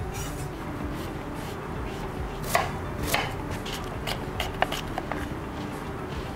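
Onion being chopped on a board by a knife, a handful of sharp irregular taps standing out over a steady kitchen background hum, close by with no voices.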